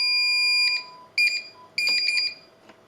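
Honeywell Galaxy Flex alarm keypad beeping as the system begins setting: a long steady tone, then several short bursts of high-pitched beeps, close and clear with no talk.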